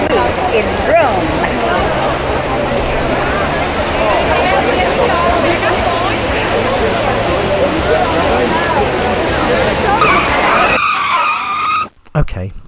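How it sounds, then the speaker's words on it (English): Water of the Trevi Fountain in Rome pours in a dense, steady rushing roar with a crowd of voices mixed in, then drops away abruptly near the end. "At last, we arrived in the famous fountain of Trevi in Rome."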